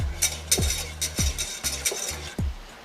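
Spoon stirring sauce for Thai sticky wings with brown sugar in a bowl or pan, giving a series of short scraping and clinking strokes at an uneven rhythm, close and fairly quiet, with no talk.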